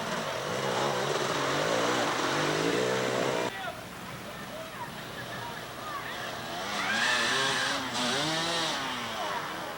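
Several enduro motorcycle engines labor and rev through deep mud holes on a 1993 national enduro course in Greenville, Ohio, a loud, rasping, shifting drone that fades and surges back, with voices faintly underneath.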